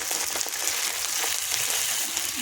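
Water hits lightly fried onions in a hot pan and sets off a loud, dense hiss of sizzling that stays steady and close for the whole moment.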